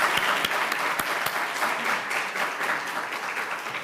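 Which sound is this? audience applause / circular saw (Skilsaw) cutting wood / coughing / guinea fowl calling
audience applause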